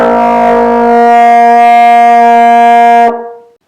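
A high, sustained buzz from lips on a baritone mouthpiece, loud and steady for about three seconds before cutting off abruptly, with no talking.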